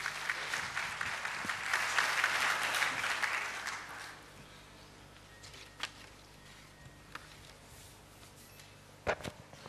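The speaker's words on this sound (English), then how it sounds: "Can we have a round of applause for him, please?" Audience applause at the 4th NAR-India annual convention in Mumbai for the NAR India president, a moderately loud burst that fades after about four seconds, leaving quiet room noise with a few faint knocks.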